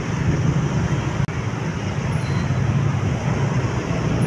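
Road traffic in heavy rain beside the Pasig River in Santa Mesa, a dense continuous rumble of vehicles with a brief dropout partway through and a faint high tone near the end.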